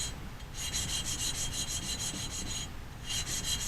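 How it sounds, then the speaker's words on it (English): A steel engine valve is lapped against its seat with lapping compound, giving a gritty rhythmic rasping that repeats in quick back-and-forth strokes, close and fairly quiet, with no talking. "As we go to a finer lapping compound, it'll be less noise and everything will actually get smoother."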